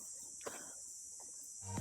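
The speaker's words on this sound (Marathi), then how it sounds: "रस्त्यातून चालताना फक्त रातकिड्यांचा आवाज येतो" Crickets chirp in a steady, high drone along a forest trail on the Karnala Fort trek, with a few faint rustles and soft steps nearby and no clear talk.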